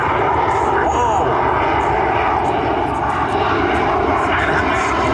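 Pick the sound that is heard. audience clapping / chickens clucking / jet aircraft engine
jet aircraft engine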